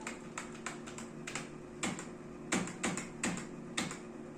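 Computer keyboard typing during data entry in Tally accounting software, with light key taps early on, then several louder clustered keystroke bursts at a steady, uneven pace, close and clear with no talk.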